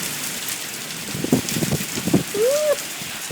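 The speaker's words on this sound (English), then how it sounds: "Ooh, you can hear the thunder?" During a heavy Florida downpour, the rain hisses steadily while a low rumble of thunder swells faintly underneath, with a brief voice near the end.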